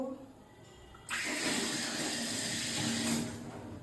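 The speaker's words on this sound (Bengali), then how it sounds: "অরহরের ডাল ভালো করে পরিষ্কার করে ধুয়ে নিচ্ছি" Pigeon pea lentils (arhar dal) being washed in water: a quiet start gives way to a loud, steady rush of running water that continues to the end.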